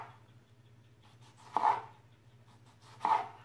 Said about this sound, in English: Okay, we're just gonna chop these up.